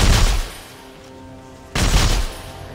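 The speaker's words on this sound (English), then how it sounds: "It's a burst fired javelin gun." Two heavy bursts from a burst-fire javelin gun in Dead Space 3, each a dense, loud volley of rapid shots, separated by a short lull of fading echo and ambience.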